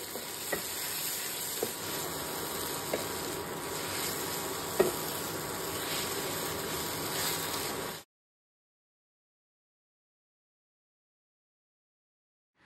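Tomatoes frying in a pan while being stirred for chow mein, a steady close sizzle with a few soft scraping knocks, running for about eight seconds before cutting to silence.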